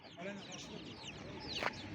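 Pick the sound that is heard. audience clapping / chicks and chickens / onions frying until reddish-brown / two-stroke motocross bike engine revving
chicks and chickens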